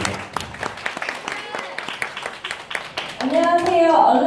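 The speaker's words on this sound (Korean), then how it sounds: "박수 부탁드립니다." Audience clapping at a K-pop group's debut showcase in an art hall, with scattered claps under a voice talking, then louder cheering and shouting toward the end.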